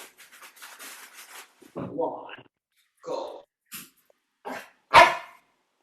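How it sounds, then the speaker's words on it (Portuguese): A small dog gives several sharp barks at close range indoors, spaced irregularly and ending with one loud yap; a person talks briefly at the start. "Meu cachorrinho entrou aqui na sala. Agora vocês vão escutar."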